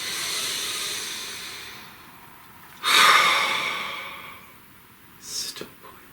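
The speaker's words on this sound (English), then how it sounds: "please take a nice deep breath" A deep audible breath, a soft airy inhale swelling and fading, followed a few seconds later by a shorter exhale, set against faint ambient music with someone talking softly before.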